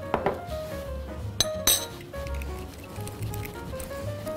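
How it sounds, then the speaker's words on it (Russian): Semolina, vanillin and other ingredients being stirred in a bowl for a breakfast dish, with light clinks of a utensil against the bowl, two sharper taps near the middle and a soft scraping, close and fairly quiet. "Вновь тщательно перемешиваем."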